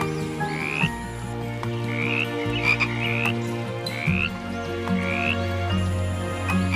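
Frogs croak close by in a steady chorus, with rhythmic rising chirps repeating about once a second over layered low droning calls and no talk.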